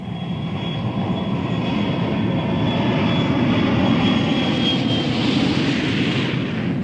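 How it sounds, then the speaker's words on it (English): A large zero-gravity training aircraft pulls out of a near vertical dive close to the speed of sound, a loud, sustained jet engine roar with a steady high whine running throughout. "A pull-out from a near vertical dive close to the speed of sound."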